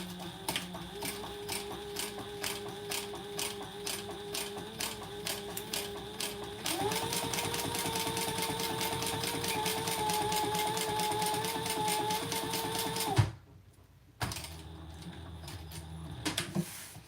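A sewing machine runs slowly while top stitching a wallet, a fast regular mechanical ticking that steps up in pitch partway through, stops briefly near the end, then resumes.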